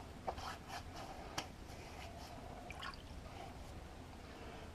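Water splashes and drips as hands wet a face before a shave, with a few soft, brief splashes close by over a steady background hiss and no talk.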